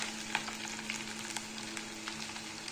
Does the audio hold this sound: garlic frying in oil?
yes